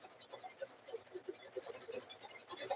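Sewing stitches rasp quietly close up as a needle and thread are pulled through fabric, a soft continuous scratching with a repeating rhythm.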